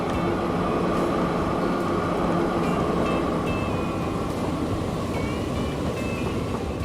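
A train rolls along in the Transport Fever 2 railway simulation game, a steady rumbling roar with faint high squeals and tones layered over it, continuous and fairly loud throughout with no talk.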